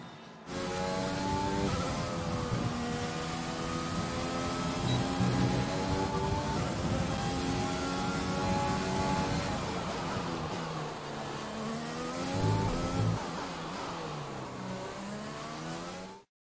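Race cars in the F1 2020 video game at the Singapore circuit scream past the finish line, a continuous high-pitched engine roar rising and falling as the cars accelerate and pass.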